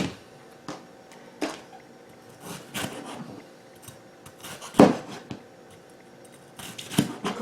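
Scissors cut a section out of green peppers in a home kitchen, a series of scattered sharp snips and rubbing scrapes with quiet gaps between them, close and fairly faint.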